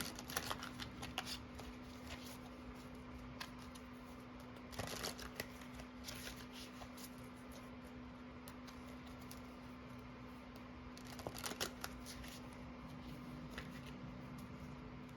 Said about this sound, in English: let's pull some cards to see what you love about them